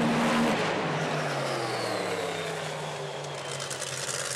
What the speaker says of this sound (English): Tyre smoke on the far side of the racetrack for the multi-time Australian champion, and Peter Gibberis with his own problems on